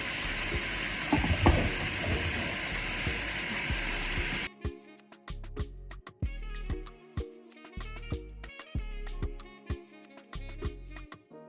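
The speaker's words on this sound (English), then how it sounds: "It's time to turn. Stir and stir and stir." Native jollof rice stirred in a pot, a steady sizzling, scraping texture for several seconds, then clicking scrapes and soft knocks at an uneven rhythm, close and moderately loud with no talking.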